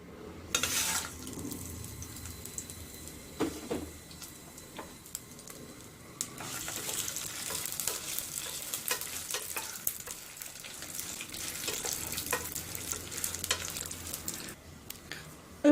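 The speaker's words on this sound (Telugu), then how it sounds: "ఆయిల్ వేసుకున్న తర్వాత ఎండుమిర్చి ఫ్రై చేసి పెట్టుకోవాలి" Dried red chillies sizzle in a little oil, a soft, steady frying hiss that starts faint, grows fuller after the first few seconds and is broken by a few scattered stirring clicks, with no talk.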